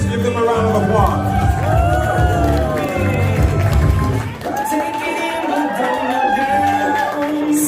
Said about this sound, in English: please welcome Yusri and Boris. Give them a round of applause